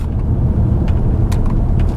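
Older Audi A6 estate with a six-speed automatic gearbox changing gears, heard from inside as a loud, steady low road and engine rumble with faint brief clicks and knocks.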